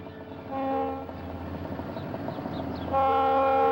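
Conrail freight with a trailing ex-Erie-Lackawanna SD-45 locomotive rumbling past, its horn blaring in two loud blasts, at the start and again near the end, over the rolling rumble of the cars.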